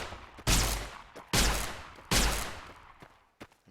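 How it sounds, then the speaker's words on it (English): A laser rifle firing in Fallout: New Vegas: three loud, sharp discharges at a steady, deliberate pace, each with a quick attack and a fading tail, followed by a couple of fainter clicks. "I mean, it's a laser weapon."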